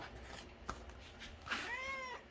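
A cat meows once, a clear, close, rising-and-falling harmonic cry standing alone after a few soft rustles, with no talking.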